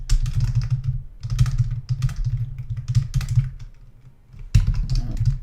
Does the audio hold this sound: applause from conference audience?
no